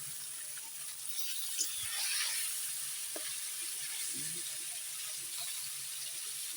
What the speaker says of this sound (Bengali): সবগুলো একবারে দেবো না, অল্প অল্প করে ভাজি